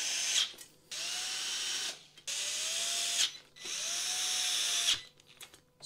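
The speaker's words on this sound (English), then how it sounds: "Just using my hand screwdriver drill." A handheld screwdriver drill drives screws into furniture legs in three sustained whirring bursts, each about a second long with short pauses between, close and moderately loud with no talk.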